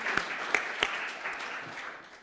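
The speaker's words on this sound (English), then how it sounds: "If we could get a round of applause." Round of applause at an academic symposium on liberal education and African American history, a steady patter of clapping from the audience with a few louder claps near the start, gradually thinning out toward the end.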